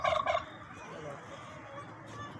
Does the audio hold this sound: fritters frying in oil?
no